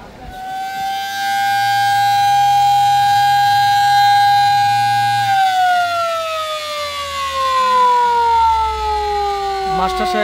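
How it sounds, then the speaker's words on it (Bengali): The horn of the passenger river launch Doyel Pakhi-10 sounds before departure: one long, loud, sustained tonal blast that drops slightly in pitch midway and fades near the end. "হর্ন দিয়ে যাত্রীদেরকে জানান দিলেন যে কিছুক্ষণের মধ্যে ছেড়ে যাবে লঞ্চটি"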